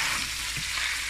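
Butter, bell pepper, hot chili and onions frying in a pan, giving off a loud, dense, steady sizzle heard up close with no voices.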